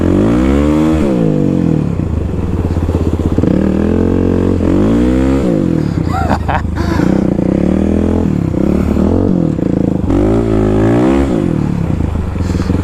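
A Kawasaki KLX351 dirt bike revs hard while its rear wheel spins on ice, the engine rising and falling in repeated loud, close surges with some clattering scrapes, no voices.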